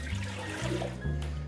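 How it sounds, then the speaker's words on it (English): Water is poured into a pot to make hot cereal from a cracked grain blend of corn, kamut and brown rice, a steady close pour with a low gurgling tone that rises slightly as the pot fills, with no talk. "And then to this, we're gonna add our water."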